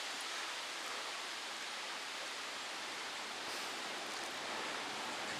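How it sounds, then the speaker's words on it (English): Wind blows steadily on a windy day in Halifax, a dense, even hiss-like roar filling the whole stretch with no gaps and no voices. "Oh, there's the wind."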